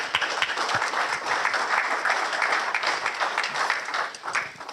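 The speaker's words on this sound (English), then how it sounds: "Let's have a round of applause" Steady applause from an audience at a workshop fills the room, a continuous patter of many hands clapping at moderate volume for several seconds without a break.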